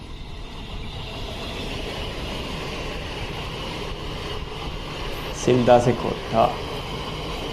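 A long EMU electric train passes with a steady, continuous rumble and hiss; a voice speaks briefly near the end over the noise.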